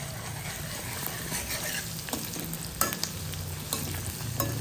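A spicy amti (kevla curry) being stirred in a pan, with a steady close sizzle and several sharper scrapes of the spoon against the metal.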